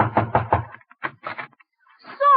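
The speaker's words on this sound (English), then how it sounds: "I'll knock on the door." A radio-show sound effect of knuckles rapping on a door: a quick group of four sharp knocks, a short pause, then three more, close and loud, followed by a brief sound at the end.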